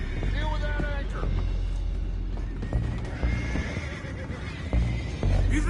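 Horses whinny and neigh while hooves clip-clop on ground in Red Dead Redemption 2, layered over a low rumble, with voices talking.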